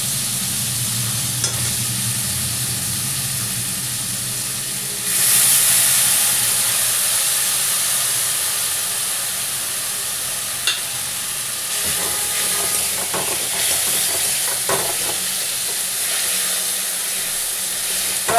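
Tomato, ginger and green chili fry in a pan. A steady close sizzle with occasional stirring scrapes swells into a louder hiss as a splash of water hits the hot oil, then settles to a gentler crackle.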